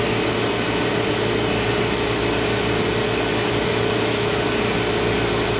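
Steady broadband rushing hum from an Oxford Plasmalab ICP chamber pumping down to base pressure, constant and unbroken with no voices.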